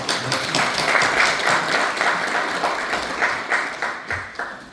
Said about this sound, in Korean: 의장님 나가신데 박수 한번 주시죠.